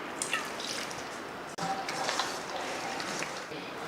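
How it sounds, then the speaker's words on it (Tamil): A continuous wash of water being poured into a spice mix for gobi manchurian, steady and close, with small splashy drips and a brief pause in the middle. "கொஞ்சம் தண்ணி ஊற்றி கலந்துக்கலாம்"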